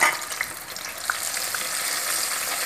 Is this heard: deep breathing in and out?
no